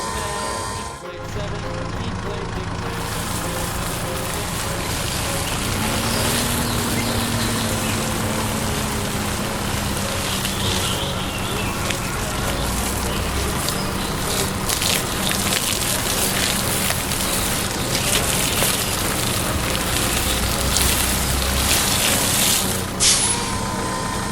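A tractor's watering system sprays water over freshly sown seeds in a farm garden, making a loud, steady hiss like heavy rain that runs without a break from start to finish.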